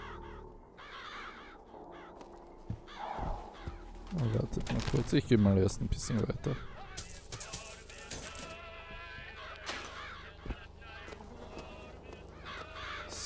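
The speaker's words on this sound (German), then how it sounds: "Das sind lauter Krähen." Crows cawing in the video game BioShock Infinite, scattered calls rising from an eerie ambient game soundscape while someone talks over them.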